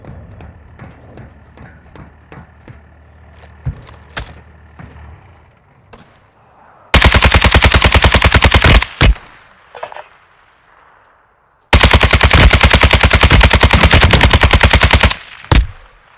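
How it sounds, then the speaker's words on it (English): Airstrike gunfire in Warzone 2.0: after quieter scattered pops, two long bursts of very loud, rapid heavy machine-gun fire tear through, each lasting a few seconds, with a short gap and a few isolated shots between them. "Airstrike, find cover."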